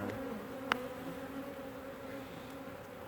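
Killer bees in a top bar hive give off a steady, dense buzzing hum close by, with one brief sharp tap near the start.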